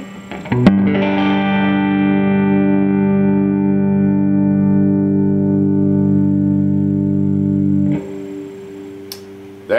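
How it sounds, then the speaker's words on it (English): A sustained, reverb-drenched guitar chord through a 1965 Fender Princeton amp rings out for several seconds, its spring reverb at high volume giving a wavering, tremolo-like pulsing swell before cutting off, followed by a faint clank. "That is the springs on the reverb that creates that more of a tremolo effect at louder volumes."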